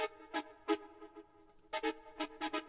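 An OB-6 synthesizer playing a brass preset: short, bright stabbed chords in a syncopated pattern, quiet and with no talk.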